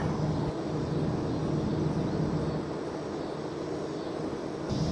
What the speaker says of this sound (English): so the air conditioners are all running out here